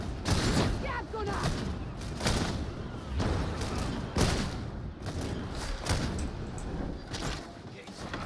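Video game gunfire from an enemy gunner in Warhammer 40,000: Darktide, a rapid stream of thumping shots roughly every second over dense combat noise.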